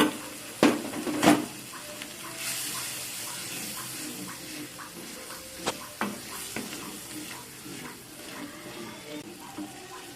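Masala for vegetarian matar paneer sizzles in a pan after water is added. Loud scraping stirs come early, then a softer bubbling hiss continues with scattered clinks, and there is no talk.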